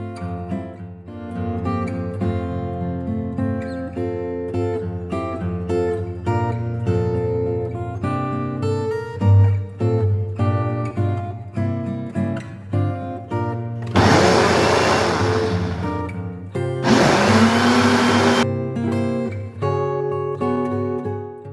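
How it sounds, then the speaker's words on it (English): Music with steady beats plays throughout, and two loud bursts of broadband noise cut in, one about 3 s long and one about 2 s long. These fit a kitchen blender roughly chopping vegetables for Nigerian peppered gizzard, heard beneath the music. "Next, I go in blending my vegetables, rough blending, not smooth blending."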